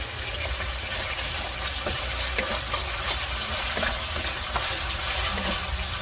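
Fried rice being stir-fried with oyster sauce and soy sauce gives a steady, dense sizzle and hiss with faint scraping knocks of a spatula throughout, close and continuous with no talk.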